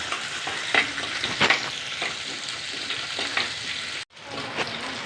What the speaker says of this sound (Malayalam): രണ്ട് രണ്ട് കറിവേപ്പില ഉള്ളി നന്നായിട്ട് കഴിഞ്ഞു നന്നായിട്ട് മൂത്ത് കൊടുക്കാം